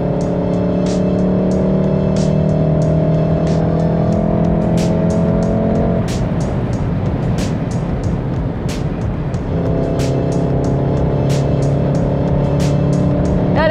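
A VW Golf R with a manual gearbox cruises on the Autobahn, its engine holding a steady drone that drops at a gear change and then climbs again, with constant road and wind noise close inside the cabin.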